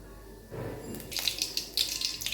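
Fennel seeds spluttering in a few spoons of hot oil in a pan, giving quiet scattered crackles and pops over a soft sizzling hiss that grow busier toward the end.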